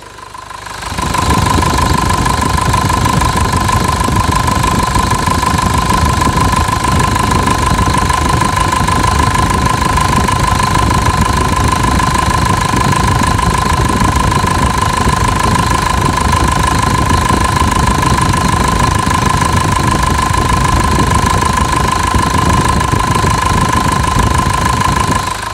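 A Toyota Bandeirante diesel engine idles steadily and loudly for the whole stretch, with a constant knocking clatter under a sustained mechanical whine and no talking.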